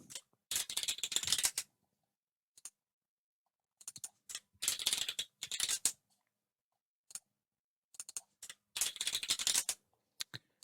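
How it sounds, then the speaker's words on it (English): Keys are pressed on a computer keyboard and a mouse button is clicked, in short clustered bursts of close, crisp tapping separated by silent gaps, with no talking. "I'm just pressing 3 on my keyboard and pressing my mouse button to get this node"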